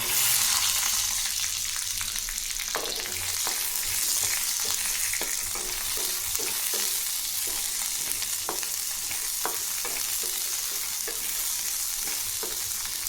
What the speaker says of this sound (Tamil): இதை நல்லா வதக்கி எடுத்துக்கலாம்